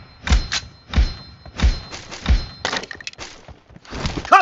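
Weapon reloading in the mobile shooter game PUBG Mobile: a rapid series of hard mechanical thunks and clicks in an uneven rhythm, close and fairly loud, with no talk.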